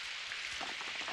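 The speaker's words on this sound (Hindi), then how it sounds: "तेज बारिश है।" Steady heavy rain hisses down on a surface in a dense, even wash, with no voices, in a Hindi-dubbed Doraemon cartoon episode.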